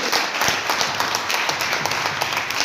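Applause from an audience at a Modicare business talk, dense, even clapping that continues steadily throughout at moderate loudness.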